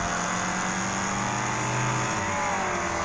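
Many racing cars in the Wreckfest mobile game drone together in a steady, dense engine roar, with pitch sweeping slightly as engines rev, continuous and loud throughout.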